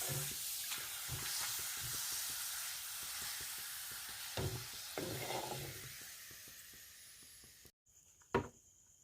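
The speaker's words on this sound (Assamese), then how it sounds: "এইফালে পাপৰ ফ্ৰাই কৰি আছোঁ" Papad frying in hot oil, a dense close sizzle and hiss with repeated scraping stirs, ending briefly near silence before a final clatter.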